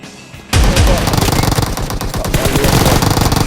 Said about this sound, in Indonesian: Tembak yuk.